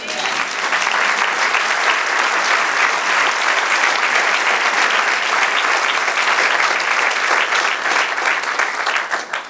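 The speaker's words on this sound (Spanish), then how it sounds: "Denle un aplauso, Señor." A church congregation applauds together during a Spanish-language sermon, a loud, dense and steady wall of clapping that runs for the whole stretch with no break.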